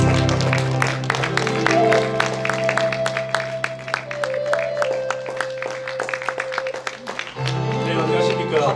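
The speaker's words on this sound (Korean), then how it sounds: "여러분 박수 주십시오." Concert audience at a Korean-Japanese music event in a theater applauding as a trot singer is welcomed, dense scattered clapping under sustained background music with held tones.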